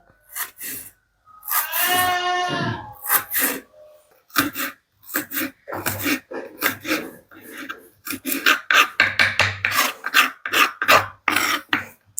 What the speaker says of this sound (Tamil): வெங்காயத்தை நான் கட்டிங் போர்டில் வச்சு தான் வெட்ட போகிறோம்